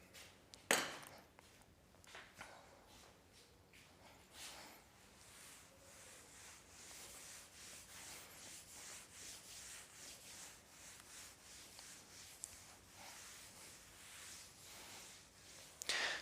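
A classroom board is rubbed and erased with quiet repeated scrubbing strokes, a faint rhythmic swishing that continues for many seconds after a few sharp knocks near the start.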